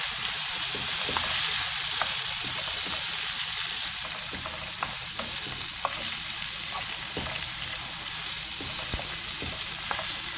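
Peppers hitting hot oil in a pan for a sweet and sour chicken sauce, a loud, steady sizzle and crackle with scattered pops and occasional clinks as the vegetables are tossed.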